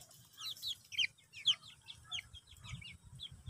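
Several chickens cluck and chirp in short, repeated calls, close by, with soft low shuffling and scratching sounds underneath.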